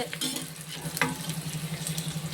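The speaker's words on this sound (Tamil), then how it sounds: "இந்த வெங்காயம் வந்து ஒரு பொன்னிறமாக வந்து வரணும்" Onions frying in a pan for vegetable biryani, a steady close sizzle with a low hum and occasional scraping stir clicks throughout, no voices.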